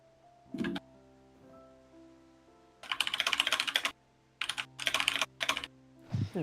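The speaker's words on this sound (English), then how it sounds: "Mechanical keyboard God noises." A mechanical keyboard clacks in short bursts of rapid, crisp keystrokes with pauses between them, close and fairly loud against a quiet background.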